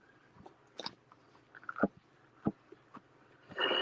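Someone eats char siu pork lettuce wraps with kimchi slaw, making a few close, crisp, crunchy bites and chewing sounds in a quiet room, without speech.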